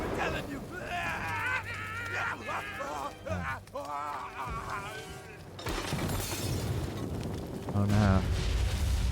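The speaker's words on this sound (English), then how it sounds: "I love how the explosions look real" Explosions and shattering crashes in South Park: The Fractured But Whole sound over constant character dialogue, with a heavier burst of rumbling destruction in the second half.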